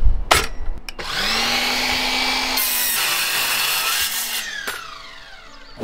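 A replacement deck board being cut with a power saw during a deck repair: a steady, loud whining cut runs for several seconds, rising in pitch midway, with short bursts of saw noise before and after the main cut.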